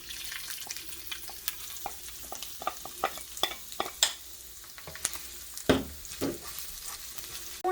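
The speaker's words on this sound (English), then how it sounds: "I want to saute this until it starts turning a little brown, or for maybe a minute or so." Ginger and garlic sauté in oil in a pot. A soft, steady sizzle sits under frequent sharp clicks and scrapes of stirring, with a couple of louder knocks.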